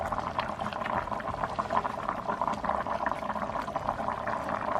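Water poured steadily into a pot of couscous vegetables with courgettes and carrots, a close continuous splashing, bubbling gurgle at moderate volume with no talk.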